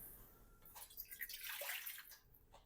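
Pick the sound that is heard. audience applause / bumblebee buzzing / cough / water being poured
water being poured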